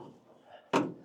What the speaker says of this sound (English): Let me see if I can pop this open for you.